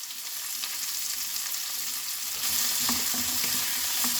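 Carrots, cauliflower and beans sizzle and crackle in a hot pan, a steady frying hiss that grows louder partway through as the vegetables settle, with soft stirring clinks.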